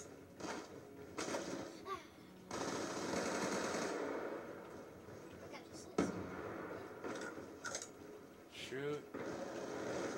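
Rapid automatic gunfire from a Call of Duty match comes in repeated loud bursts, with players talking over the shooting.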